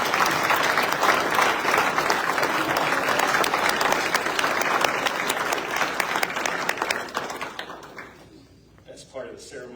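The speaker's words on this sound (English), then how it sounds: "give a round of applause for" Sustained applause from a ceremony audience honoring a 50-year service pin recipient at a military assumption of command event, dense and steady for about eight seconds before tapering off into a few scattered claps.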